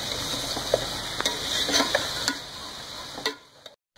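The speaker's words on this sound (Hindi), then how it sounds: "अब हमने इन मसालों को जो भी हमने डाले हैं इसके साथ 10 मिनट के लिए अच्छे से भुनाई करनी है" Ground spices for nihari are roasted in a pan, a constant frying sizzle broken by scattered clicks and scrapes of a spoon stirring, ending in a sudden cut to silence.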